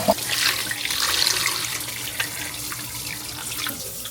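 Tap water runs steadily into a cooking pot being filled for homemade chicken and dumpling soup, a continuous close hiss and splash with no speech.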